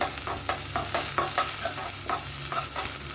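Oil sizzles in a pan while ginger is stirred in for pongal, a continuous frying hiss broken by repeated scraping stir strokes, close and fairly loud with no talking.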